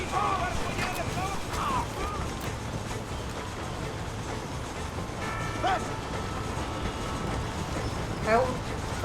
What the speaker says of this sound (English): Don't get hit by the train.